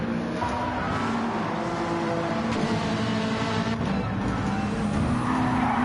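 In a racing video game at Spa, a race car runs wide onto the AstroTurf and spins off. Engine roar and squealing, skidding tyres sound steadily throughout, fairly loud and continuous.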